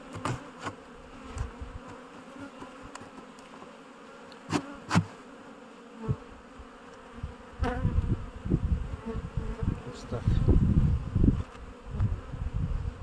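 Honey bees buzzing around an opened hive during a colony inspection after cold weather, a dense close drone with occasional louder passes and bumps of handling, no talk.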